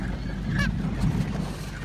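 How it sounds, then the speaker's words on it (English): Geese honk a few times in the distance over a rumbling outdoor background at a feeding spot. "This is like a swarm of geese."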